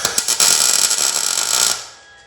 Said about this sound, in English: I got my 2 little peanut welds all tacked in